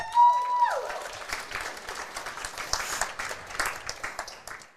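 Audience applause for a panel of chefs at a live Omaha sandwich event, a steady wash of many hands clapping that swells quickly and carries on for several seconds, with a brief tone at the start.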